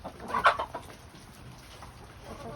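Backyard chickens cluck faintly at close range, with a short burst of clucks early on, then a quiet, low background with occasional soft sounds.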